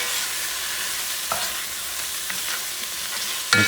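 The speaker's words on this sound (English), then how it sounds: "A little bit more of the natural oil. Put some of the turmeric." Turmeric is stirred into hot, sizzling oil for a shrimp stew, a steady close fry hiss with scraping spoon strokes and a sharp clink near the end.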